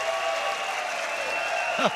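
A crowd at a table tennis final in Singapore applauds steadily after a point, a broad wash of clapping that carries on, with a voice rising briefly near the end.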